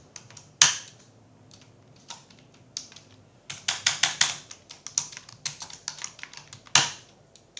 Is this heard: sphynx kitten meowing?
no